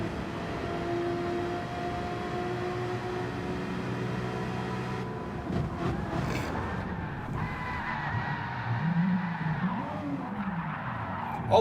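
Tyres squeal and skid as a Group 3 race car warms its tyres at Monza in Gran Turismo 7, a steady screeching whine with engine drone, shifting into wavering, sliding squeals in the second half.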